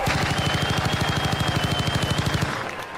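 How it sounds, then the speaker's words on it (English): Rapid gunfire bursts fired in a steady rhythm, loud and close, cutting off abruptly near the end. "Why y'all got the gunshots?"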